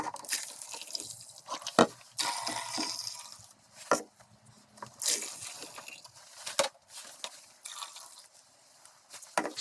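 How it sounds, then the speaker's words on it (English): Preheated water is poured in bursts into an ultrasonic parts cleaner in a Classic Mini workshop, splashing and gurgling close by with short pauses and clunks between pours; no talking. "So it's taken 8 litres to fill it up to the top"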